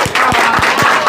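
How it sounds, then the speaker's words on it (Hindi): Applause from an audience, a short burst of clapping with a steady, dense patter and a few sharper claps standing out. "अब ये ताली सुनो"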